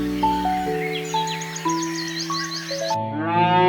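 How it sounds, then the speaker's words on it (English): Cattle lowing in a sequence of overlapping moos with stepped, sustained tones, a farm cow heard up close and loud, with a brief different animal call at the end. "Cow."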